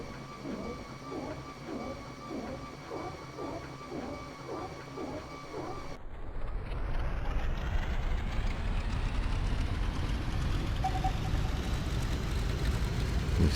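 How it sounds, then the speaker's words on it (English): PBY Catalina radial engine in X-Plane 11, first a rhythmic pulsing rumble during start-up, then catching and settling into a steady loud broadband roar with hiss that runs to the end. "It sounds like a radial engine running to me."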